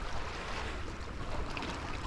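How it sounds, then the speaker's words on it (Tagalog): Calm sea at low tide along a fishing spot, a continuous soft wash of waves mixed with steady wind rumble on the microphone, with no voices. "Kalmado dagat ngayon."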